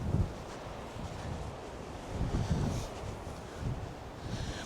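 Strong wind buffets the microphone on Orre Beach, with big surf rolling beneath it as a constant low rumble that swells in gusts.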